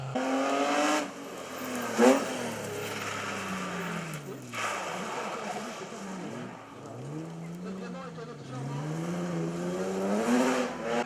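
A rally car runs a slalom course at Roche-de-Glun, its engine loud and close, revving up and dropping back again and again as it accelerates and brakes between gates, with occasional tire noise.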